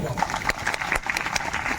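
Audience clapping at a village fair gathering in Balod, Chhattisgarh, a dense, steady patter of many hands, close and fairly loud, with voices mixed in.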